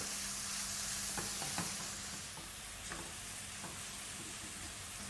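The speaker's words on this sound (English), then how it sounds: "Let's mix all of this well." A chopped mushroom and coriander mixture is stirred in a hot pan, giving a constant sizzling hiss with intermittent scraping and tapping from the utensil, close and steady.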